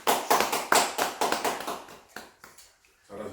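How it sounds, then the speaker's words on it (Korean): A church congregation claps during a Sunday worship service in an irregular run of distinct claps that slows and fades, with a short pause and one last burst at the end. "박수."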